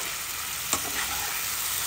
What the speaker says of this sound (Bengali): ভাজা পটলগুলো এর মধ্যে দিয়ে দেবো, দিয়ে আরও কিছুক্ষণ কষবো